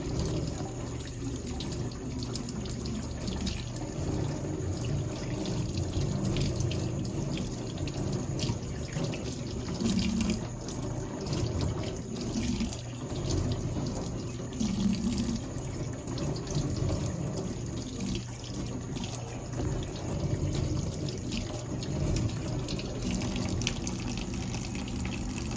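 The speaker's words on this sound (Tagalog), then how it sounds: "Running water rinses the organism and the dirt into the sink are considered cleaner." Tap water pours steadily into a sink during medical handwashing, a continuous close-range splash and hiss with no voices.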